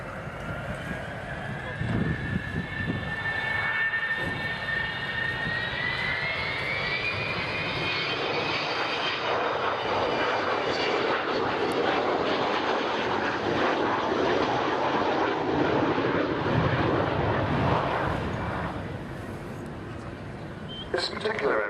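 An Avro Vulcan B2 bomber's jet engines roar steadily at RAF Fairford, with a rising whine sliding upward early on, the loud rumble continuing for the whole stretch.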